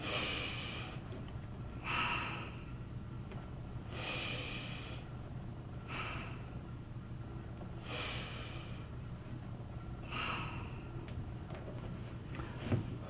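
Deep, audible breaths drawn in and let out during a yoga routine of the Five Rites, repeating steadily about every two seconds, close and alone against a low steady hum.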